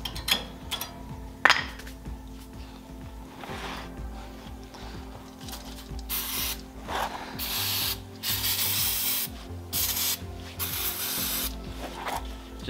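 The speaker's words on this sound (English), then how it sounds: "I've just sprayed a bit of brake cleaner on it. That's mainly on these slides" Brake cleaner sprayed onto the caliper slides of a Pajero Sport QE during a brake pad replacement, coming as several sustained hissing bursts between clicks and clanks of tools, near and without talk.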